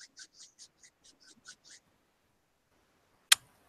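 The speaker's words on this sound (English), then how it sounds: "This is the sound of me rubbing my hands." Nine quick, soft swishing strokes of hands rubbing together in a steady rhythm, close by, followed by quiet and one sharp click.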